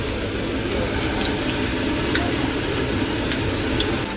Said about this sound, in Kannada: ಕರ್ಕೊಂತ ಇದ್ದೀನಿ, ಫ್ರೈ ಮಾಡ್ತಾ ಇದ್ದೀನಿ